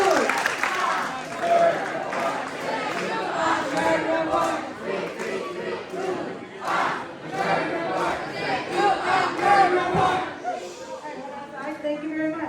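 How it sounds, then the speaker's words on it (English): A crowd at a birders' gathering at a camp cheers, whoops and applauds loudly and steadily for about twelve seconds, with excited shouts and chatter mixed into the noise. "do you want a big round of applause?"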